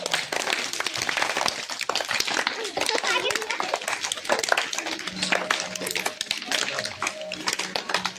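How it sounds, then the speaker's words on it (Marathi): Hand claps during a group exercise session, clapping in front and then behind the back, repeated sharp claps throughout under continuous instruction and children's voices. "आता समोर टाळी पाठीमागे टाळी"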